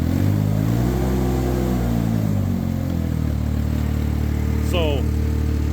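A Ventrac 45RC remote controlled tractor engine cranks and catches, its pitch rising and then settling into a steady close idle drone, with a person talking over it.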